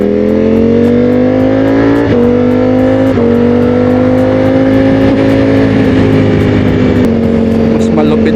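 A Ducati Streetfighter fitted with clip-on handlebars rides along, its engine droning steadily with gear shifts and rises in pitch, loud and close, with wind buffeting and a rider talking over it.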